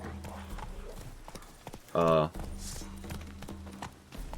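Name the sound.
horse hooves while mounting a horse in The Witcher 3 video game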